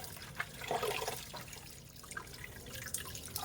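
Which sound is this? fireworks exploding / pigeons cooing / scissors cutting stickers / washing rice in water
washing rice in water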